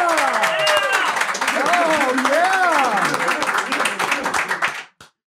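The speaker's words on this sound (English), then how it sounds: "You guys all stopped clapping like at the same exact time" Live audience in Austin, Texas clapping and whooping loudly and continuously, with voices mixed in, before the clapping cuts off all at once into silence.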